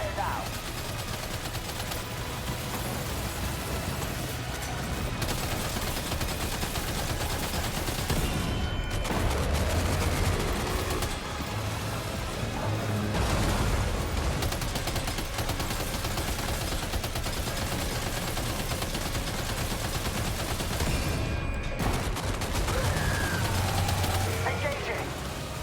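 Gunfire in Death Stranding 2 rattles on as a dense, continuous fusillade with heavy bursts and a constant roar of combat noise. Voices can be heard faintly through the din.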